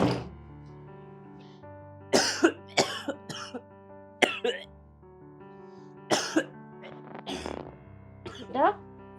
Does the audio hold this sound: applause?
no